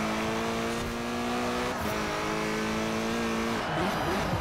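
A racing car engine in Forza Horizon 4 drones loud and close, its pitch dropping briefly as the throttle eases around the two-second mark before climbing again under power, with a faint tire squeal near the end.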